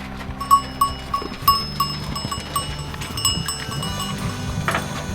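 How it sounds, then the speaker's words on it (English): A handmade Swiss Alpine metal bell on a grazing sheep clanks in a loose, uneven rhythm, several rings close by as the sheep moves, over quiet outdoor background. "handmade Swiss Alp bells for their cattle and sheep up there"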